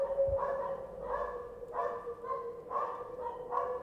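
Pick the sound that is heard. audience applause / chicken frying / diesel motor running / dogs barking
dogs barking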